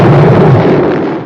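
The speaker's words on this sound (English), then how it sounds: "Oh, look at that satisfying explosion." A loud, booming explosion from the 1979 James Bond film Moonraker, with a deep rumbling roar that slowly fades, heard alone and close up.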